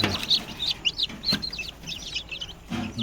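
A free-range village hen clucks softly among her chicks at a poultry farm, several short chirpy calls and low clucks in irregular bursts nearby, with no speech.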